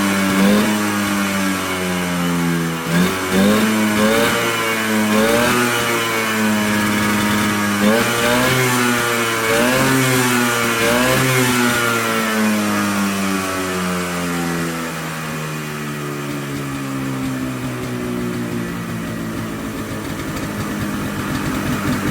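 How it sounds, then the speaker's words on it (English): A Polaris Colt ATV engine revs up and down several times, pitch sweeping higher and falling back, then settles into a steady idle, loud and close. "Let's give her some revs."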